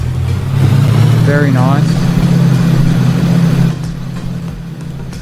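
Boat engine from a video game idling with a steady low rumble that drops off near the end, under a person speaking briefly.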